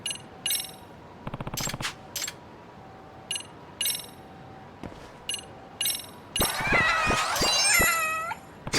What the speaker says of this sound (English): We need to befriend Kiwi and my other cat